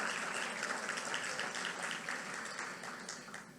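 A congregation claps during a church sermon, a steady wash of applause that fades gradually over a few seconds, moderately distant and soft.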